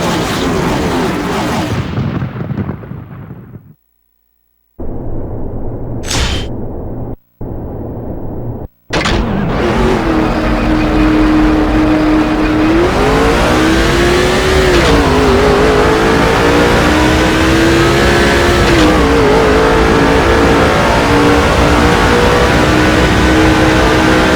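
A NASCAR 06 video game stock car engine roars loudly and steadily, with revs that rise and fall and a few abrupt cutouts early on before a sustained high drone.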